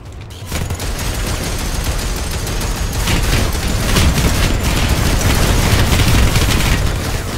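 Dense, loud, continuous gunfire and booming explosions from a PlanetSide 2 battle, a heavy fusillade filling the whole stretch with no clear pauses.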